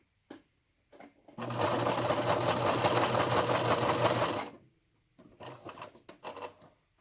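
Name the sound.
sewing machine sewing in a zipper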